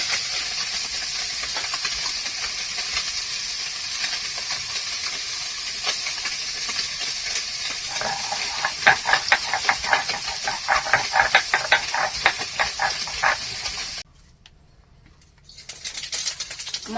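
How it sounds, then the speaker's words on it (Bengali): Fish frying in a pan over a wood-fired stove outdoors, giving a steady loud hiss and sizzle with crackling pops that thicken midway, then a sudden drop to near quiet before the sizzle returns faintly. "মাছগুলো ভেজে নিয়েছি"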